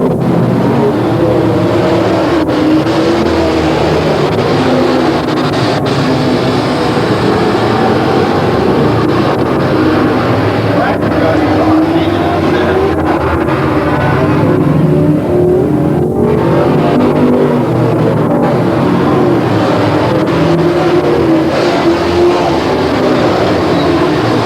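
Race cars at Willamette Speedway in 1989 accelerate together at the green flag, a loud, continuous, dense roar of many engines with overlapping revving that stays up close and heavy from start to finish.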